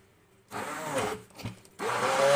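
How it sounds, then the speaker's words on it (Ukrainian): An immersion blender whirs in two bursts through a cheese soufflé mixture, pausing briefly between them, loud and close with a coarse grinding buzz. "І тепер збиваю погружним блендером до однорідної маси."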